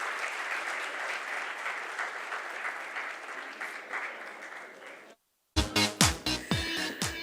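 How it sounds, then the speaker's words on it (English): Audience applause at a hospital event, a broad sustained clapping that runs steadily for about five seconds, stops abruptly, then gives way to a brief burst of louder music. "we can do with a big round of applause"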